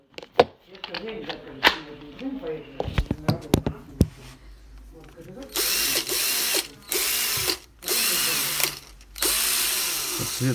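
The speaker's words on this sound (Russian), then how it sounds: "Сам широповерт 19 года, 14-вольтовый." A 14-volt Metabo cordless screwdriver from 2019 whirs in several short bursts, with clicks and ratcheting in between, heard up close alongside someone talking.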